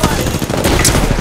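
Loud, dense bursts of rapid gunfire in Apex Legends, overlapping shots crackling continuously without pause.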